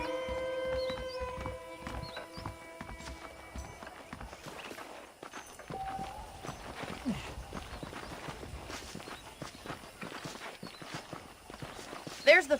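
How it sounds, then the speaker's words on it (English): Horse hooves clip-clop in the Western game Red Dead Redemption, a steady walking beat running under game music and speech for most of the stretch, moderately quiet in the mix. "The horses are saddled up over here."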